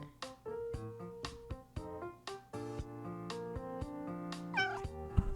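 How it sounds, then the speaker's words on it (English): A cat meows several times in short, close, fairly loud calls with brief gaps, over a quiet musical background. "Can I help you, cat? Give us a squeak."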